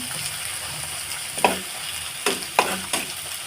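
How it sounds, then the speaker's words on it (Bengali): Nigella seeds frying in hot oil while being stirred, a steady crackling sizzle broken by several sharp spoon-scrape strokes against the pan, close and moderately loud. "দিয়ে নেড়ে চেড়ে আমি একটু ভাজি করে নিচ্ছি"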